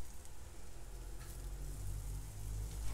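Quinoa veggie burgers sizzle on a grill in a steady, continuous low hiss and crackle with no talking.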